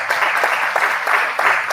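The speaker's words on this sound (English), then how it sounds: "Give John Diggles a round of applause." A crowd at a live political event at Roselawn Center gives a loud round of applause for a communications director, with dense clapping in pulsing waves close at hand.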